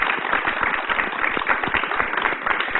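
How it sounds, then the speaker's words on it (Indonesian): A crowd applauds steadily, many hands clapping in a dense, even patter at moderate loudness, with no talking. "Boleh dong kita tepuk tangan dulu."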